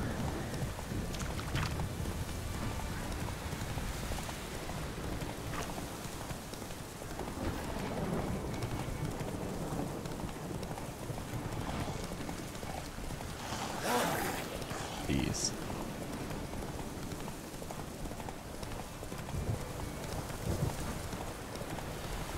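Rhythmic hoof clip-clop from a galloping horse in The Witcher 3: Wild Hunt's busy game soundscape, steady throughout, with voices talking over it.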